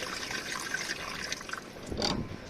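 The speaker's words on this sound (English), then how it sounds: "you can see the water dripping out. It just comes down the back of the wing liner" Water drips and trickles out from behind the wing liner of a Peugeot 308 with a footwell water leak, a faint, steady wet patter that rises into a louder splashing burst near the end.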